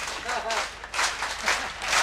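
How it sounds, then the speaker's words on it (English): Youth audience at a Catholic diocesan conference breaks into broad, rolling applause, a dense wash of clapping that swells in waves, with a voice faintly heard underneath. "Clap for yourselves."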